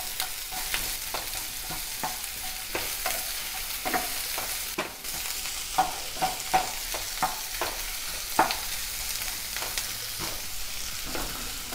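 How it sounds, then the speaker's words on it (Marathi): Onion and garlic frying on a medium flame until golden for matar paneer: a steady sizzle runs under rhythmic spatula scrapes and taps repeating about every second, close and clear. "हे सर्व मीडियम फ्लेमवर सोनेरी रंगावर भाजून घेऊया।"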